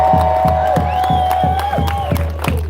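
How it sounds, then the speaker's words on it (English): A crowd at an outdoor rally cheers and claps in rhythm, with loud whoops, whistles and shouts rising over the steady clapping, close and sustained. "Give yourselves a round of applause."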